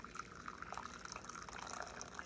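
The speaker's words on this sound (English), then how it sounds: "So put your drops in and then add your water" Hot water from a kettle trickles faintly and steadily into a container holding peppermint drops, a quiet continuous pour with light dripping.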